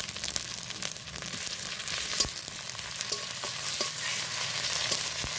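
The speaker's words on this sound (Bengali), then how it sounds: "ভালো করে নেড়ে চেড়ে একটু কষিয়ে নিয়ে আদা রসুনটা একটু কষিয়ে নিয়ে" Ginger-garlic paste sizzling and frying in hot oil while being stirred, a steady close hiss with occasional sharp pops and scraping clicks of the stirring utensil throughout.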